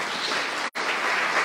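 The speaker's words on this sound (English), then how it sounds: "So shall we give a round of applause" A crowd claps loudly and steadily for the winners of a sunflower-growing contest, with a brief cut to silence in the middle before the applause picks up again.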